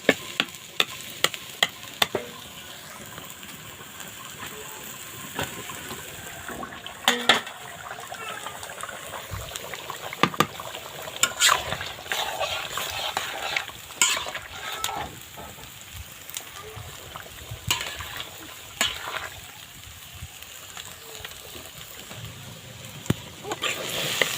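Chicken curry being stirred in a cooking pot, with a soft sizzle and irregular scraping and clinking of a utensil against the pot, moderately close and fairly quiet, with no one speaking.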